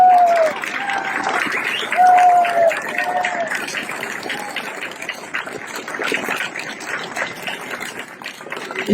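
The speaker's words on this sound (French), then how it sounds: "J'aimerais qu'on applaudisse très fort Maître Brusa" An outdoor crowd in a Strasbourg park applauds at a political speech, a dense and fairly loud patter that is strongest early and then eases, with voices calling out over it.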